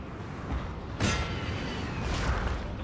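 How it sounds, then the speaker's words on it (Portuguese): Cannon fire in a Napoleon: Total War battle, a dull boom around the one-second mark with another swell later, over a constant rumbling battlefield din. "Nossa, é muita bala de canhão voando"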